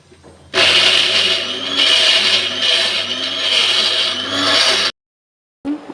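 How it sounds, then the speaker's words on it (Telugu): An electric mixer grinder blends cashews into a smooth paste, a loud close whirring motor that starts abruptly, pulses slightly as the jar contents churn, and cuts off sharply before a brief restart. "ఇలా మనం మెత్తగా దీన్ని మిక్సీ పట్టేసుకుందాం."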